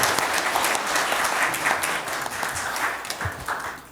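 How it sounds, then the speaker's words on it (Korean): A seated audience applauds to close a national assembly panel discussion on renewable heat energy, steady dense clapping filling the room throughout without speech. "뜨거운 박수로 오늘 마무리하면서 마치도록 하겠습니다"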